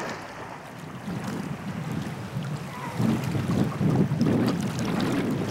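Sea waves wash against a deserted island shore where ice floes have melted, a steady rumbling surge with gusty wind buffeting the microphone and heavier swells building toward the end.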